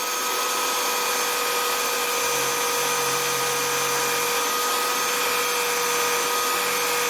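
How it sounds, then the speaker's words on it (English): A homemade wooden lathe spins while a chisel edge carves lines into the turning wood, a steady motor hum with a faint scraping under it, continuous and moderately loud with no talking. "I'm gonna carve the lines first."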